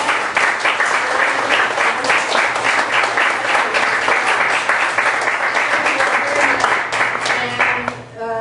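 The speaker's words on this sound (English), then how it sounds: "let's give our speakers a big round of applause" A room full of people claps for the speakers after a music-media panel discussion; sustained, fairly loud applause with scattered individual claps standing out, tapering off at the very end.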